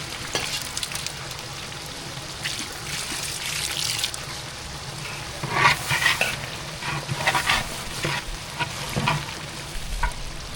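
Curd and lemon juice being stirred into a masala gravy for chicken biryani, with a steady sizzle and repeated scraping strokes of a spoon through the thick mixture, close and fairly loud.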